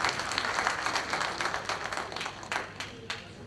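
A congress audience in a meeting hall applauds in a dense wash of many hands clapping that fades slightly toward the end.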